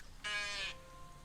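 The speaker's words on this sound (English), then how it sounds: "It's a goat." A recorded goat bleat plays in a guess-the-animal game: a single wavering, nasal bleat lasting about half a second, clear against a quiet background.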